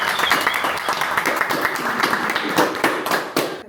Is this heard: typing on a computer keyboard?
no